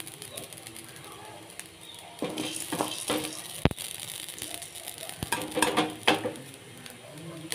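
Whole spices dry-roasting in a pan for a curry masala, with soft crackling and stirring scrapes that grow busier midway, a few sharp clicks, low-level and close.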